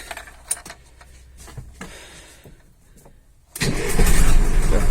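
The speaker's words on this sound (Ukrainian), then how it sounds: "будемо пробувати заводити. Так, зараз заведемо." A GAZ 3309 truck engine turns over after a starter repair, with a brief crank and then a loud, steady idle that comes in sharply and holds to the end after a few seconds of quiet clicks and shuffling.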